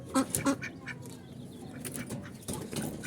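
Two pet ducks calling at feeding time, several loud nearby quacks in quick bursts at the start and more scattered calls over background rustle and faint noise.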